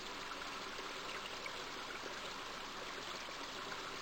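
Flowing water in the adventure game King's Quest V makes a steady, faint, even hiss like a running stream that continues without a break and without talking.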